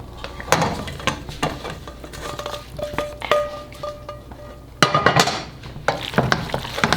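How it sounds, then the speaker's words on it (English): Tomatoes go into a pan of simmering pasta sauce and get stirred, with a steady sizzle under repeated clinks and scrapes of a utensil against the pan, plus a couple of sharper knocks. "Now I'm going to add the tomatoes."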